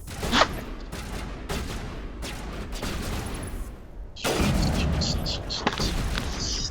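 Sniper fire in Mass Effect Legendary Edition rings out as a sharp, loud crack, then the game breaks into dense, sustained gunfire with repeated booming shots near the end.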